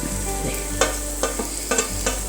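Onions with turmeric, garam masala and crushed chilli sauté for chicken thoran, a soft steady sizzle with several sharp spatula taps and scrapes against the pan, close up and without speech.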